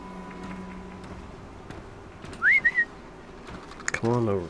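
Someone whistles a quick, clear two-part rising call, close and distinct against quiet background hiss. A voice follows soon after.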